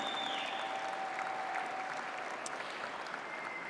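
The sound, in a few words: audience applause at an awards ceremony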